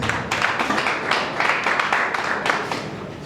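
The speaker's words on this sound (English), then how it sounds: "Please, a round of applause for Mr. Moses Cjpan as he comes on stage." Audience applause greeting a man coming on stage at a Nigerian corporate media event, a steady dense patter of many hands clapping together, fairly close and continuous throughout.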